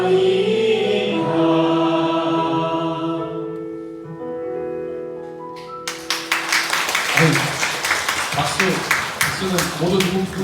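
Applause breaks out among an audience at a church lecture, many hands clapping together in a lively, sustained burst after a stretch of sung or spoken voices.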